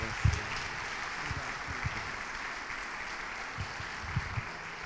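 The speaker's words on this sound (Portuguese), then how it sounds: "Aplauda o Senhor Jesus" A church congregation at a Holy Communion service claps in a steady, even patter that sounds somewhat distant and subdued, with no one speaking over it.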